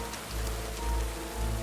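Steady rain pours in the medieval video game Kingdom Come: Deliverance, a continuous close hiss of drops on surfaces with no voices.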